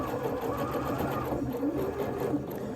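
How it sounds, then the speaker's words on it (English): A sewing machine stitches fabric for a child's winter crown, its motor running in a steady, continuous whir close up without pause. "And then I'm going to sew all the way up"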